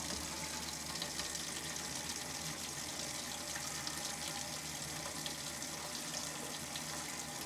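Bathroom faucet in an RV running steadily, a constant close hiss and splash of water streaming into the sink with no break and no talking.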